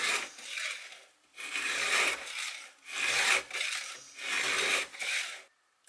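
Stihl MS 261 chainsaw chain is sharpened by hand with a Pferd 2-in-1 file tool, giving four or five close, rhythmic rasping strokes with brief gaps between them.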